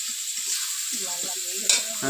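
Spices with chili powder fry in a pan before meat goes in, giving a constant bright sizzle up close with soft stirring scrapes and a sharper clink near the end.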